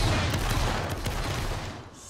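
An infantry line fires a musket volley in a multiplayer video game battle: a dense, loud crackle of many overlapping gunshots that rolls on continuously for about two seconds.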